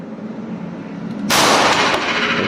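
A .45 M1911A1 pistol fires a single full metal jacket round at a target about 8 meters away on a range, one sharp loud report that breaks a quiet background and rings out afterward.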